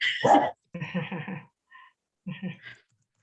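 A dog close by gives a run of short, voiced barks and yips in three or four bursts with pauses between, alone with no talking.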